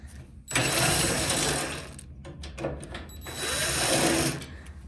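A powered Torx T20 screwdriver whirs in two sustained bursts, close and fairly loud, as it unscrews panel screws on an ASKO dryer, with clicks between.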